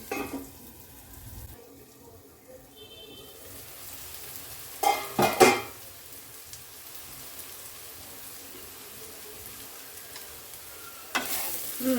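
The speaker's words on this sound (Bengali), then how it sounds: "বেশি ভাজবো না, বেশি ভাজলে খেতে টেস্টটা নষ্ট হয়ে যাবে" Pointed gourd (parwal) fries in oil in a covered pan, giving a faint, steady hiss broken by a few louder bursts of crackle and clatter, with no voices.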